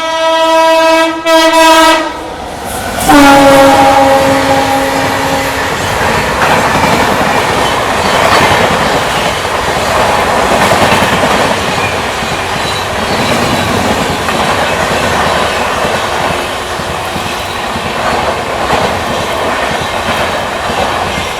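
Central Railway Mumbai Rajdhani Express overtaking on the parallel track: a loud blaring horn blast, then a steady roar of wheels and rattling coaches rushing past close by, with no talk.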